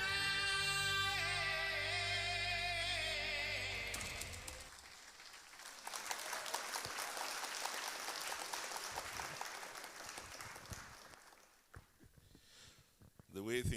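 Applause, apparently AI-generated, swells into a dense patter of claps after a musical passage fades, continuing unevenly for several seconds, then thinning and dying away.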